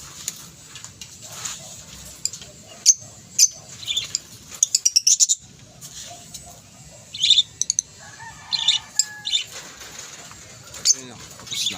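African lovebirds and parakeets at feeding time with a bird seed mix, sharp chirps and rapid trilled bursts scattered over a low background murmur, some wing flutter and handling noise, with a person talking quietly in between.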